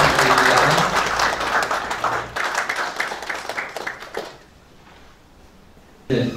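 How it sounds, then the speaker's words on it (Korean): Applause from the audience at a regional peace council award ceremony, a loud burst of clapping that fades after a couple of seconds into quiet room tone, then a brief return of sound at the end. "박수 부탁드립니다"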